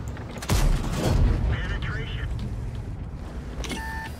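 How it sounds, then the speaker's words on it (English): Tank cannon fire in the World of Tanks video game, a heavy boom with a rumbling tail followed by game alert tones, heard under someone talking. "I should not be bouncing those shots."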